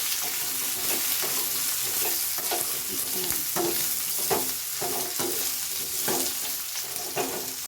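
Thick-cut ridge gourd pieces fry in a pan, a steady close sizzle with repeated spatula scrapes and stirs at irregular intervals, no talking.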